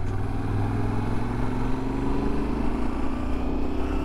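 A Yamaha Tenere 700 motorcycle with a CP2 twin engine accelerates, a loud, steady engine drone that climbs gradually in pitch over a few seconds, heard up close with wind rumble.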